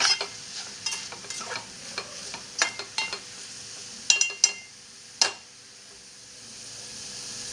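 Kokum being stirred into sizzling Malvani prawn chutney in a pan, with a steady frying hiss broken by repeated scraping stirs of the spoon, close and fairly quiet, no talking.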